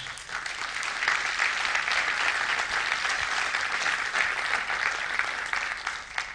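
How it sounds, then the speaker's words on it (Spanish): A church congregation claps loudly and continuously, sustained dense applause filling the whole stretch without talking. "Puede darle un aplauso a Dios"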